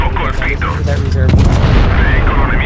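A tank cannon fires in a video game, probably the SMV CC-64 Vipera, a heavy booming shot with a rumbling tail over battle noise, while someone talks over it.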